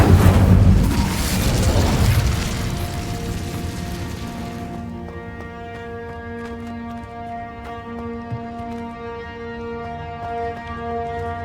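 Incendio fire spell cast in the Hogwarts Legacy video game, a loud burst of booming fiery blast that fades over a few seconds into a sustained shimmering musical tone.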